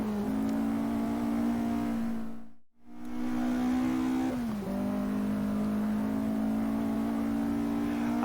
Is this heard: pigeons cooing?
no